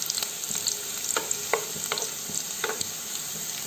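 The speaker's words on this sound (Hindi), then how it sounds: "तो इसको बस तलना है, इसके साथ ही प्याज भी जो है अच्छे से ब्राउन हो जाएगा।" Whole red chillies and onions fry in a pan for a Himachali saag dish, making a soft, steady sizzle with scattered crackles and pops from close by, and no talking.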